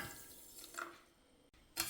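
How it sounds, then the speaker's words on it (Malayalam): Half a cup of water splashes into a saucepan holding sugar as a syrup is started for a coconut sweet, heard as short, faint pouring bursts with a brief pause between them. "അര കപ്പ് തന്നെ വെള്ളം ഒഴിച്ച് കൊടുക്കുക"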